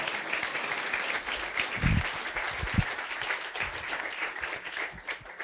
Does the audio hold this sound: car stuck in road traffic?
no